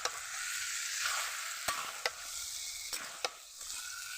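Chicken sautés with fried potatoes in a pan, a steady close sizzle broken by several sharp scrapes and clinks of a spatula stirring, with no talking.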